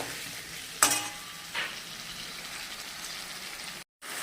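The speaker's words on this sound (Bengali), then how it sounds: "দেখো আমার মশলা দিয়ে কত তেল বেরিয়েছে দেখতেই পাচ্ছ আর ভালো করে আরও কষানো হবে" Spice paste frying in oil for a katla fish head muri ghonto, a soft steady sizzle with a couple of brief stirring clatters and a short drop-out near the end.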